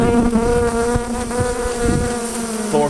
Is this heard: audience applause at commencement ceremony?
no